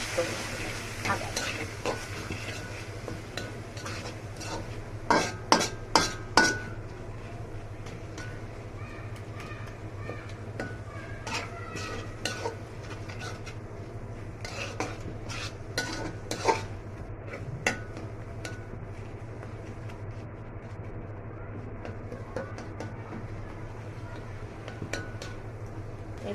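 Tomato, sugar and chili powder being stirred together in a pan for a tangy-spicy tomato dish, with repeated scraping and clinking of a utensil against the pan over a steady sizzle, a cluster of louder knocks near the start.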